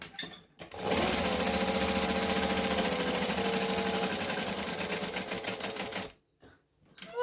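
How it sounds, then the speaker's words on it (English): A sewing machine runs a joining stitch finished with a back stitch, a fast steady whirring rattle close up for about five seconds, then stopping and briefly restarting. "Back to a joining stitch, making sure that we back stitch."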